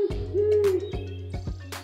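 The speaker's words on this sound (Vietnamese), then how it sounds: "Một cô cú khôn ngoan sống trong hốc cây." An owl hoots in a smooth, sustained call with a rising-falling tone, heard twice over a low steady musical hum, fairly close and clear.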